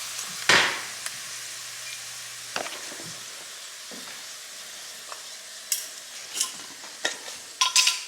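Garlic scapes sautéing and browning in a pan, giving a soft low sizzle broken by occasional scrapes and stirring clinks of a utensil, with no talking.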